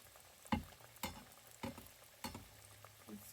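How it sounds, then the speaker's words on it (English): Tortillas frying in oil for chilaquiles, with a steady soft sizzle under a handful of sharp spaced clacks from handling in the pan, close and quiet, with no voices. "we're going to fry for about a minute or so on each side"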